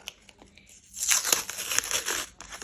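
A paper surprise packet is unwrapped in a few quick close crinkles, then a louder burst of crumpling and tearing of paper that keeps rustling in uneven handfuls, with no voices.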